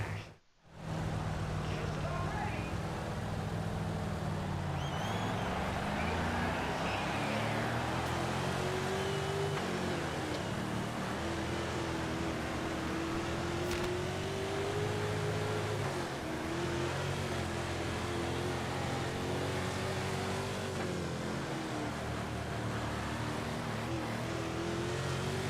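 Sprint car engine droning steadily through racing laps in World of Outlaws 24, a loud continuous roar with a rising and falling pitch as it laps, after a brief dropout at the very start.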